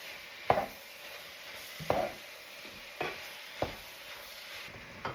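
Tomato paste sizzling in a pot while a spoon stirs it, with regular scraping knocks against the pot every second or so over a constant low fry.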